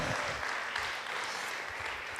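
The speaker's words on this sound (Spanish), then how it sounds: "Dale un aplauso fuerte, mi hermano" Dense, steady applause from a church congregation, clapping continuously throughout.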